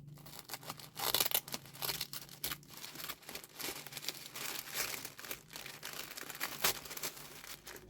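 Paper and plastic wrapping of a scrapbooking supplies parcel being torn open and crinkled by hand, a quiet, close series of rustling rips and crumples with brief louder bursts.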